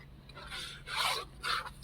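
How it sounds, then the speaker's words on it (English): Scissors cut through paper while making a small printable pocket book, giving three quick rasping snips of crisp, close slicing with short gaps between them. "I really love cutting with my scissors."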